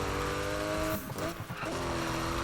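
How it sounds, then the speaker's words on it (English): A stock Porsche 911 (993) drifting in Need for Speed 2015, its aggressive engine droning loudly under a sustained tire squeal, with a brief dip near the middle before the roar and screech resume. "Can I just say that this car sounds amazing? Like, it has a really aggressive sound."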